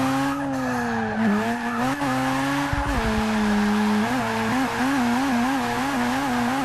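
A low-horsepower rotary-engine car drifts through a big stadium corner, its buzzy engine note rising and sagging as it bogs in fourth gear, with tire squeal and a sharp skid burst, loud and close throughout.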